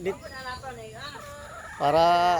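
Several fighting roosters cluck and call in short harmonic bursts, ending with a louder, sustained crowing call, close by.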